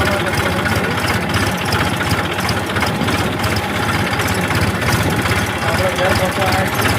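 A farm tractor's engine runs steadily at a constant drone with a low vibrating rumble, loud and unbroken from start to finish while it drives back toward a village home.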